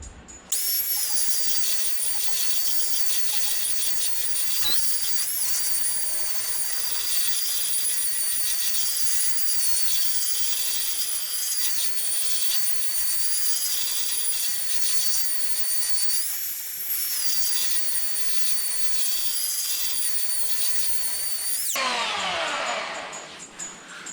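A belt sander grinds across a warped wooden subwoofer box in a long, steady, high hiss, close and continuous, before cutting off abruptly near the end.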